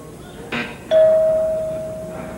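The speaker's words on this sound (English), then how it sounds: "We heard a slight buzz, but the bell is what counts there" A game show answer bell rings once with a bright ding that rings out and slowly decays, preceded by a brief buzzy burst, with no talk over it.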